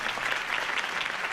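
A crowd applauds a Harvey Dent campaign speech in the Telltale Batman video game, a dense, even wash of many hands clapping without letup through a short burst.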